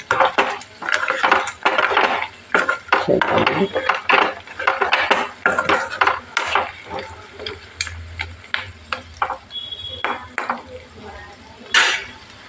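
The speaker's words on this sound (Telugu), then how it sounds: "ఉడకబెట్టిన మటన్ ఇలా మెల్లగా ఫ్రై చేస్తున్నాండి మంచిగా గోల్డెన్ కలర్ వచ్చే వరకు" Boiled mutton is fried slowly in a pan until golden for mutton pickle, with repeated scraping and clanking of a utensil against the pan over a soft sizzle, close and rhythmic.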